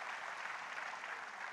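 An audience at a literary festival gathering for a mushaira applauds, a steady, dense wash of clapping heard from a little distance, continuous and even throughout.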